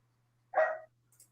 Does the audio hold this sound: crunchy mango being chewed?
no